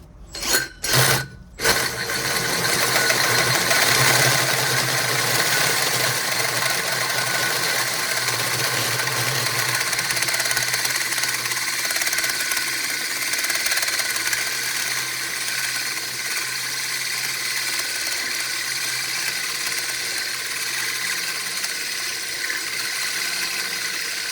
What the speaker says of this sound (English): Right now, we're gonna use our Lennox hole saw and cut through this cast iron.